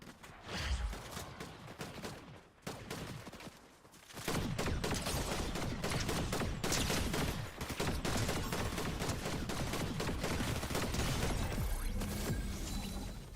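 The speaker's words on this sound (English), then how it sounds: "Who's shooting me right now?" Rapid bursts of gunfire during a Fortnite battle royale match, first a few shots and then dense, sustained volleys of crackling fire, loud and continuous toward the end.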